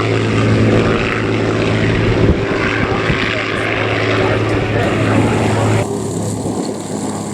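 Propeller aircraft engine drone at the Duxford air show, a steady loud rumble carried throughout with a commentator talking over it, the tone dropping slightly near the end as the plane passes.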